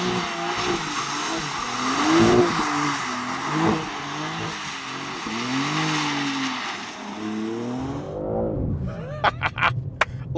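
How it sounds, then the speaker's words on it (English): A 2024 BMW M3 Touring spins donuts with traction control switched off, its engine rising and falling in sustained revs under tire squeal, then cutting away to a few sharp clicks near the end. "It also means that when it is totally off, you can do donuts as well."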